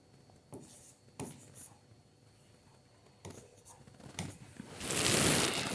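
Pen scratching on a paper application form in scattered short bursts between quiet pauses, close and faint, building to a longer louder rub at the end.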